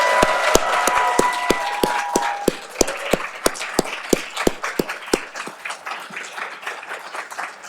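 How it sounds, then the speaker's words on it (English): Audience applause at a university senior awards ceremony: a burst of mixed clapping that thins into a few slower, individual claps before fading, moderately close in a room. "give a round of applause to all 12."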